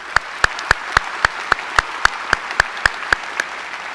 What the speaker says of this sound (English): how about one more round of applause for these pending graduates?